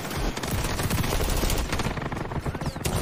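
Rapid automatic gunfire in the XDefiant shooter game, a continuous loud fusillade of close shots filling the whole stretch with little pause.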